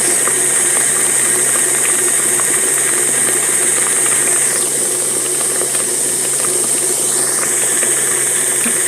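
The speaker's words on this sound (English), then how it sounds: "Now I'm going to go ahead and bump this up onto a higher speed and get some air down into our cake mix." An electric hand mixer beats lemon cake batter at a higher speed, giving a loud, steady motor whine with a constant mechanical drone and slight pitch dips as the beaters move through the bowl.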